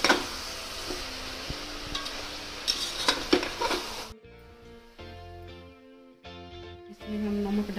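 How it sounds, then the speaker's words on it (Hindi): Chana masala with coriander powder roasting on low heat, soft sizzle and spoon scraping against the pan in the first half, then quieter clinks and stirring strokes with tonal background hum, no voices. "फिर इसको हम भूजेंगे धीरे धीरे धीरे, थोड़ा आँच पे इसको हम अच्छे से भून लेंगे"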